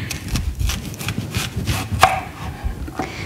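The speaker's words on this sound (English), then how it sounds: "cut your onion rings depending on how thick you like them" Knife slicing an onion into thick rings on a cutting board, a steady series of close, crisp chopping taps and light crunches, evenly spaced, with one sharper knock near the middle.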